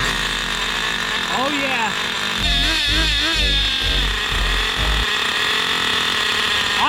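A Traxxas Nitro Rustler RC car with a 3.3 nitro engine runs loud and close at a high, rich idle, its buzzing whine swelling as the throttle is blipped, while someone speaks briefly over it.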